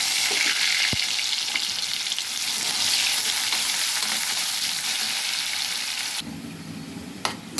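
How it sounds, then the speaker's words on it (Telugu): Onions frying in oil for haleem, a dense, loud continuous sizzle close up that drops off abruptly near the end, followed by a brief clatter, no talking. "ఈలోగా ఆనియన్స్ వేయించుకున్నాను ఫ్రెండ్స్"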